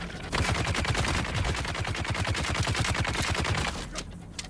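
Rapid automatic gunfire from a weapon in the video game Dune: Awakening, a dense, steady burst of shots lasting about three seconds, loud and close, then cutting off into quieter ambience.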